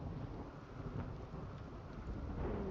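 Rain falls steadily with a low rumble of thunder rolling under it, a continuous storm ambience from a video game, with no voices.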